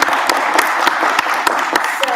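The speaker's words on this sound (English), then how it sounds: "so please give them a round of applause." Audience applause at an animal control meeting for the team who drove eight cats to Nashville Humane, a steady wash of clapping with sharper individual claps, sustained loud throughout the short clip.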